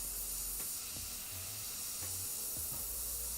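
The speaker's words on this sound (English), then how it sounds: "I reduce it till it feels nice, and then I just start spraying" An airbrush sprays paint while skulls are painted onto a Harley-Davidson motorcycle tank, giving a steady, soft airy hiss throughout with a few faint low clicks underneath.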